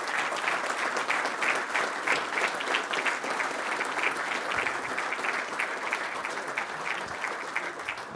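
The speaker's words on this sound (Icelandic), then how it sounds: "gefa hann bara klappa á meðan hann lappar upp" Audience applause at a golf association meeting honouring the chairman of the Keilir golf club, steady dense clapping from a seated crowd filling the room, sustained without break.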